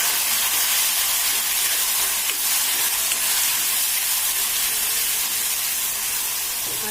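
Tomato sizzling in hot oil with crushed garlic and curry leaves, a steady loud hiss of frying that holds evenly throughout, with no voices.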